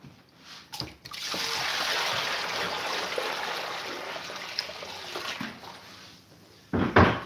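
Water sloshes and gurgles steadily as a gold pan is sunk beneath the water in an indoor tub, continuous for several seconds, with a few knocks and a splash near the end.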